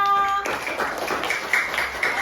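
Classroom applause from students follows a teacher's call, a burst of quick, fairly loud hand claps that starts abruptly after a brief tone and continues steadily to the end.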